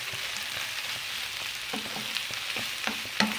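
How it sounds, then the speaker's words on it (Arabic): Vegetables for spaghetti, including bell pepper, sizzle in a pan as a spoon stirs them, a soft steady frying hiss broken by several light scraping knocks of the spoon, growing more frequent near the end. "نكمل نحرك"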